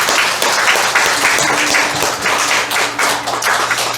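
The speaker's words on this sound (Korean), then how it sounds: "하나님께 감사와 영광의 박수 올려드리겠습니다" Church congregation applauding after a choir's hymn, steady dense clapping filling the sanctuary for several seconds without a break.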